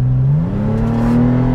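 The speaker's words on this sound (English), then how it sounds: "But if I want to get on the accelerator," 2022 Toyota 4Runner TRD Pro SUV accelerating from inside the cabin, its engine drone climbing smoothly in pitch over a short stretch, loud and steady with no talk.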